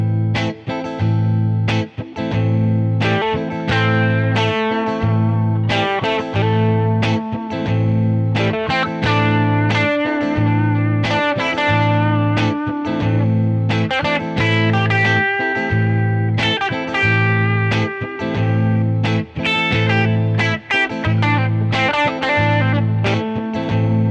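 Electric guitar with a distorted, effected tone plays a steady run of single minor pentatonic notes over a minor chord and a repeating low bass pulse, loud and continuous.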